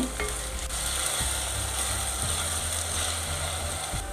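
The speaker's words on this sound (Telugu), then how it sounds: "ఇప్పుడు అల్లం వెల్లుల్లి పేస్ట్ వేద్దాము. దీన్ని కూడా బాగా మంచి వాసన వచ్చేటట్టు వేపుకోవాలి." Ginger garlic paste frying in a pan: a steady close sizzle with a few scraping stirs and mechanical clicks, with no talking.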